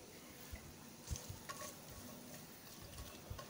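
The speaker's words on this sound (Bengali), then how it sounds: "কড়াইতে আমি তেল দিয়ে দিলাম। এখন এখানে আমি মশলাটা দিয়ে দেব, দারুচিনি, ছোটো এলাচ, বড় এলাচ, লং, জয়িত্রী, এটা হালকা করে একটু ভেজে নেব।" Whole spices (cinnamon, green and black cardamom, cloves and mace) frying in oil in a wok for mutton biryani, a steady soft sizzle with occasional stirring clinks and scrapes, close and fairly quiet.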